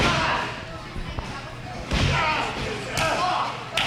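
A professional wrestler is slammed to the mat with a Northern Lights suplex during a 2003 indie match, producing a few heavy thuds and slams over crowd noise while a commentator talks throughout.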